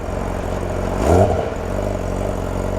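A new motorcycle engine idles, then the throttle is blipped once into a short rising rev that peaks and falls back to a steady idle, close and fairly loud, with no talking.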